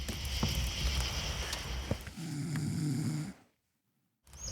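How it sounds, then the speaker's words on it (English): In the survival game Sengoku Dynasty, a sleeping character snores in slow, steady breaths over ambient game sound, then the audio drops to near silence before the game sound resumes. "Oh, and I'm snoring."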